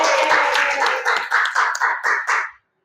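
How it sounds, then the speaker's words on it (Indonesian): A classroom full of students claps for a classmate, a dense burst of applause that thins into several short, rhythmic waves of clapping before stopping abruptly. "Kasih tepuk tangan dulu buat Ariel"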